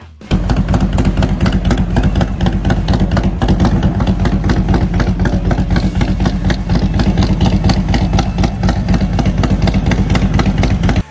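A Harley-Davidson motorcycle with a fishtail exhaust runs close and loud, a steady rapid thumping engine pulse holding evenly for about eleven seconds with no speech.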